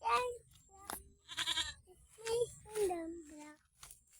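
Goats bleat in short bursts nearby on a farm while people talk briefly in between.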